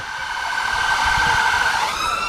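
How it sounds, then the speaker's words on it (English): An ambulance siren wails steadily nearby at a staged incident during an emergency services day, its pitch shifting near the end as it moves off, with engine rumble underneath. "So the ambulance making its way off to hospital with our patient."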